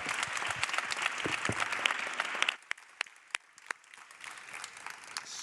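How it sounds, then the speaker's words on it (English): Audience applause at a ChangeNOW 2022 conference session on redesigning the fashion industry, dense clapping from a crowd for about two and a half seconds, then dropping to a few scattered, sharper claps. "Give a big round of applause, please."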